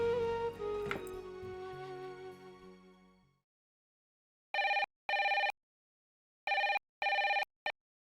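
A telephone rings on an outgoing call, two double-ring pairs of bright trilling tones after a short musical passage fades out.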